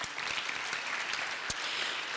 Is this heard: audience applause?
yes